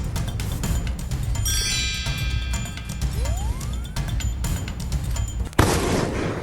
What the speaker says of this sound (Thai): เฮ้ยมีคนยิงกันด้วยนี่หว่า